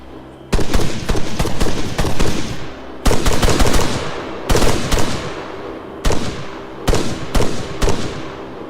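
Night combat gunfire in the video game Arma III: several loud, close bursts of automatic fire separated by brief pauses, each burst trailing off in a short echoing decay.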